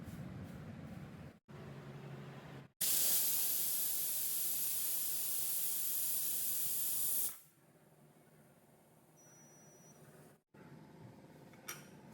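A pressure cooker vents steam in a loud, steady hiss lasting several seconds, then cuts off abruptly, leaving a quiet kitchen with faint handling noises.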